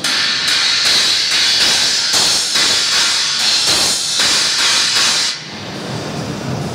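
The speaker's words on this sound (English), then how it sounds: "the cymbal sounds very trashy and very sensitive" A thin, trashy 18-inch Meinl cymbal is played, giving a bright, sustained washy hiss with repeated strikes over about five seconds before it fades into lower ambient trade-show noise.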